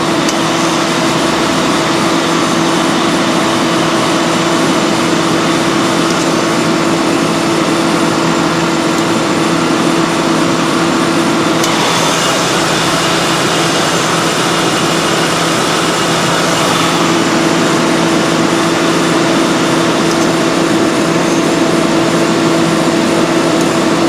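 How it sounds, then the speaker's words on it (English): A 1995 Ford Crown Victoria A/C compressor runs with a constant loud drone and steady hum under the hood, continuous throughout, with slight shifts in tone now and then. "Compressor's staying on a little bit longer now."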